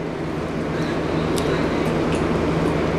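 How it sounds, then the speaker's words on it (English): An electric fan hums steadily in a room, a constant low droning whir that stays even throughout, with a few faint clicks on top. "So if you hear the noise, it's the fan in the background"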